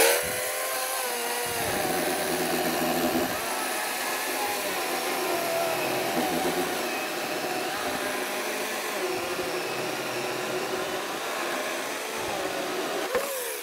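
Hanabi 40V brushless battery chainsaw with a 16-inch bar cutting through wood, a continuous high electric motor whine that dips in pitch and swells as the chain bites, sustained for over thirteen seconds, close and with no talk.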